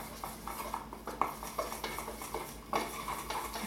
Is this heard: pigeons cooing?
no